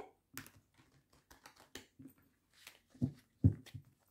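Tarot cards are shuffled by hand in quiet, close taps and riffles with a few louder slaps near the end. The clicks are short and irregular over about four seconds, and no one speaks.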